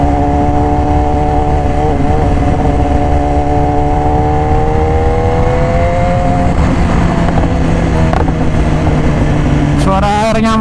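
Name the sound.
2018 BMW S1000RR motorcycle with Austin Racing exhaust riding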